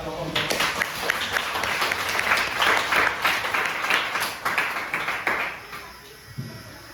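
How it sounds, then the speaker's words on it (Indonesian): Students in a junior high school classroom give the presenting group a round of scattered hand clapping that lasts several seconds and then tapers off. "Untuk yang lain bisa berikan aplaus dulu kepada kelompok penyaji."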